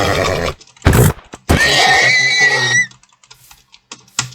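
Horse in Minecraft giving one bright, wavering neigh lasting about a second, loud and close, with short clicky keyboard-like taps before and after.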